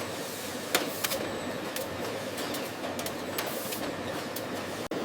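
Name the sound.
automated shrimp paste packaging machine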